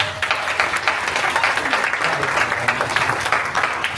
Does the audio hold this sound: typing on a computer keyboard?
no